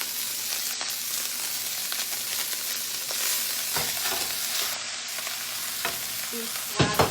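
Rice frying in browned butter in a pan, a steady close sizzle and hiss broken by several scraping stirs, with no talk.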